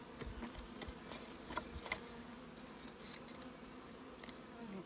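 Bees buzzing around an open beehive during an inspection, a faint, steady hum with scattered louder passes as individual insects fly close, in a quiet outdoor setting.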